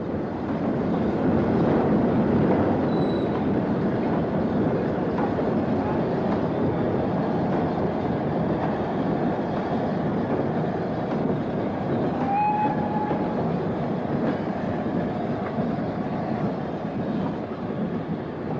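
A train with private owners' coal wagons rolls steadily past, a continuous loud rumble and rattle that stays even throughout, with no voices.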